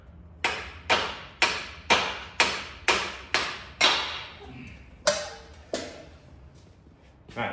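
A brass tip hammer taps a motorcycle axle on a Kawasaki final drive in a steady run of about ten sharp, ringing metallic strikes, close up, slowing toward the end.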